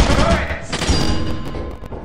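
Turret fire in a video game: a dense, rapid volley of shots fading into scattered thuds and cracks, loud and close, with some voices mixed underneath.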